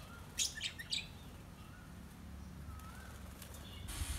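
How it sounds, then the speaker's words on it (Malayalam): Birds chirp near a nest at a resort in Wayanad, a few quick, faint tweets early on, then occasional soft calls over a quiet outdoor background. "ഇവിടെ ഇങ്ങനെ ആകാശത്തേക്ക് നോക്കി കിളികളുടെ കരച്ചിലും കേട്ട്"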